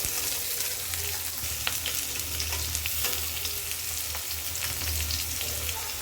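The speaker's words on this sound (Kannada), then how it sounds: "ಸ್ವಲ್ಪ ಚೆನ್ನಾಗಿ ಬಾಡಿಸ್ಕೊಳ್ಳಿ. ಬೇಗ ಈರುಳ್ಳಿ ಕುಕ್ ಆಗಬೇಕಂದ್ರೆ" Thinly sliced onions sauté in a pan with cumin, garlic and dried red chillies for a fenugreek-leaf palya, sizzling steadily and loudly up close with occasional stirring clicks.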